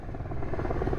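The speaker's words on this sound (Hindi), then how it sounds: "भाई आर्मी का हेलीकॉप्टर जा रहा है" An army helicopter flying overhead near a river confluence in a mountain area: a loud, steady rotor chop and engine roar fills the short stretch with no talking.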